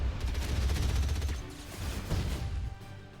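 In a strategy video game, tanks fire on enemy flak cannons in a dense, rapid volley of gunfire and impacts that holds loud, then eases off toward the end; no voices are heard.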